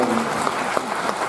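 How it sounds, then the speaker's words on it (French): Audience applause at a film festival Q&A debate, a steady dense wash of clapping from a crowd in a hall, loud and continuous throughout, with a faint voice briefly underneath. "on peut les applaudir"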